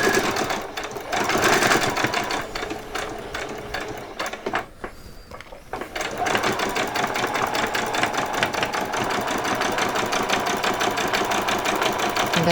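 A sewing machine stitches a seam on Christmas pyjamas with a steady rapid mechanical chatter, briefly pausing in the middle before running on continuously at close range.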